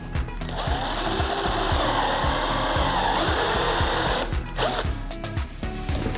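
Power drill driving self-tapping screws into chipboard, a steady loud whirring motor with pulsing rhythmic chatter that runs continuously for about four seconds, then breaks into shorter bursts and stops near the end.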